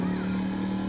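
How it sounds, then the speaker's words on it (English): A single-cylinder four-stroke boat engine runs at a steady idle, a continuous low droning hum close by among small rocky islands, with no other sounds breaking through. "who doesn't love a single cylinder 4-stroke engine to listen to in the background?"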